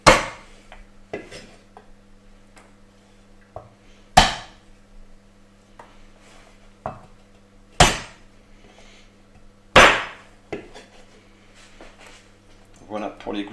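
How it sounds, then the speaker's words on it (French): Three garlic cloves crushed on a kitchen surface: sharp, heavy knocks spaced a few seconds apart, each with a quick decay, while a person talks between them. "On va prendre les gousses d'ail, donc 3 gousses d'ail qu'on va écraser tout simplement."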